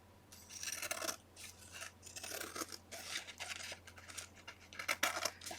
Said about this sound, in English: now I'm just going to go and carefully, with a long pair of scissors,